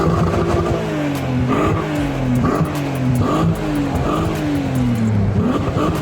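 A turbocharged Mazda MX-5 engine revs loudly and close in repeated rising surges, each climb cut off sharply before building again, steady and unbroken for several seconds with no voices.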